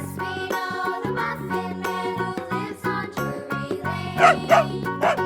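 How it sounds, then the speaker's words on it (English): A dog lets out a few short, sharp barks in quick succession near the end, sitting over continuous upbeat background music. "dog,"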